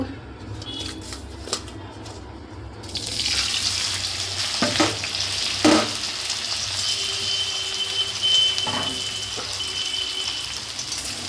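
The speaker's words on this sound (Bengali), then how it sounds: "এই কর্নফ্লাওয়ার মাখানো কফিটাকে আমি হালকা তেলে ভেজে নেব" Cornflour-coated cauliflower frying in a little oil in a kadai gives a steady, loud sizzle that swells after a quieter start, with a few clinks and stirring knocks along the way and no talk.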